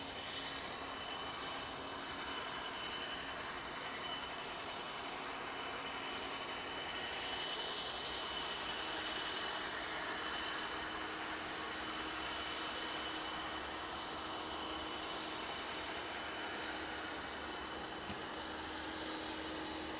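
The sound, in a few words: aircraft engine spooling up at East Midlands Airport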